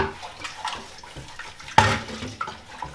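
Tap water runs at a kitchen sink while dishes are washed one at a time by hand, with a steady faint stream under scattered clinks of plates and a sharper knock near the middle.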